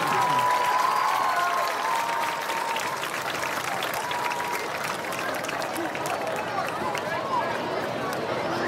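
Crowd in the stands at an Indiana high school football game applauding the nominees, a steady broad roar of clapping heard from a distance, with crowd chatter mixed in throughout.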